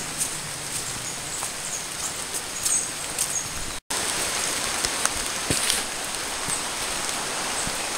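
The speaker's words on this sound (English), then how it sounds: "it's starting to rain now" Steady rain patter falls around a walker outdoors on a windy day, a dense even hiss with scattered drops, broken by one brief dropout midway and no talking.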